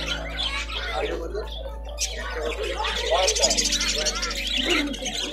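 Caged lovebirds and budgerigars at a pet market produce a dense, continuous chatter of chirps and squawks close by, while people talk over the birds and a low steady hum runs underneath.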